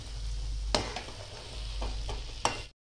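Jaggery filling for modak being cooked and stirred in a pan, a soft steady sizzle broken by a few scraping strokes of the spoon, close and fairly quiet with no voices.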